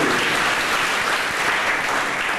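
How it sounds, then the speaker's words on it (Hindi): A spiritual gathering audience in Porbandar breaks into loud, steady applause, a dense continuous wash of many hands clapping close up and unbroken from start to finish. "आप तालियां बजाएंगे तो ही बताओ"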